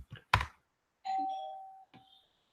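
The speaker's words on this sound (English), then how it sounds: "I got to take this doorbell real quick" A household doorbell sounds a two-tone chime, close and clear, following a couple of brief knocks or clicks, with no talking.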